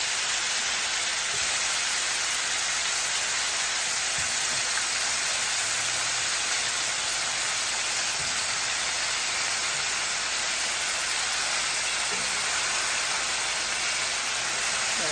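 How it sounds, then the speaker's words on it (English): Oxtail fat renders in a hot pan, producing a constant loud sizzle and hiss that stays even and unbroken with no speech over it. "I'm gonna lay it right on that back side and render all of that fat in here."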